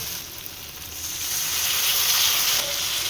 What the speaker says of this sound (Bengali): এবার মশলাটা একটু ভালো করে কষিয়ে নিই।